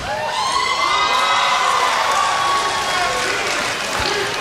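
A wrestling arena crowd cheers and shouts loudly and continuously, a dense roar of voices with whoops rising and falling throughout.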